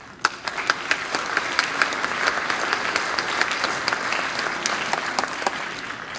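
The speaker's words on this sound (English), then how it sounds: "really give yourselves a round of applause" Applause from the audience at a Denver grades 6 through 8 school band concert, a full room of steady clapping with crisp individual claps standing out, sustained throughout.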